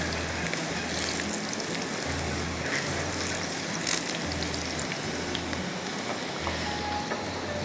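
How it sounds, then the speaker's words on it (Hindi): Onions browning in a frying pan for a masoor dal recipe give a steady, dense sizzle with a hissing, rain-like texture, and a low pulsing hum runs beneath it the whole time. "प्याज का इंतज़ार कर रही हूँ, प्याज अच्छी तरह से ब्राउन हो जाए"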